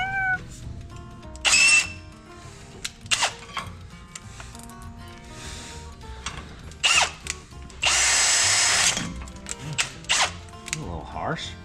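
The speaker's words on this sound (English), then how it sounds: "The banjo bolt's too dang big for the new ones, so we'll drill it out." A power drill boring out a banjo bolt in a truck workshop, whining in several short bursts and one longer sustained run, separated by quiet pauses with light clatter, with talk in between.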